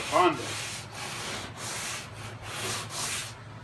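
Hand block sanding of body filler on a Toyota Camry before primer, a series of rhythmic raspy back-and-forth strokes, close and fairly loud, with short pauses between passes.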